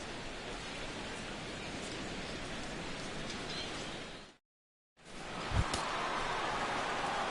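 Steady hiss of rain falling over a baseball stadium on opening day, a dense and even wash that cuts out briefly and then resumes, with no talking.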